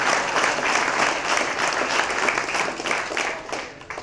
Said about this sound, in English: Let's give him a round of applause one more time.